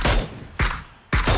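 Bursts of gunfire aimed at a vehicle's tires in PUBG, three loud, close shots or short volleys spaced roughly half a second apart.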